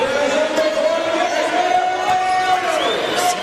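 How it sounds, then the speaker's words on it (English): A sold-out basketball arena crowd at a Melbourne United pre-season game against Cal Baptist, a loud continuous roar of cheering and chatter with a commentator talking over it. "Sold out crowd really making the noise"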